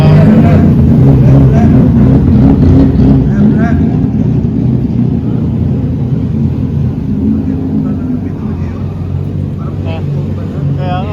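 A Toyota Supra's engine rumbles loud and close at a car meet, a deep steady roar that slowly fades, with people talking over it.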